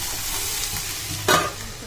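Okra and potato with turmeric sizzling in a frying pan, a steady close hiss with one brief scrape of stirring partway through.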